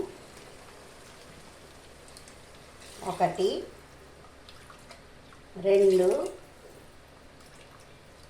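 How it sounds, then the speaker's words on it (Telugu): Water is poured from a measuring cup into a pot of rice for chicken biryani, making a soft, steady splashing beneath a voice counting aloud. "ఈ కప్పుతో 3 కప్పులు బియ్యం పోసాను కాబట్టి 6 కప్పులు వాటర్ పోస్తున్నాను"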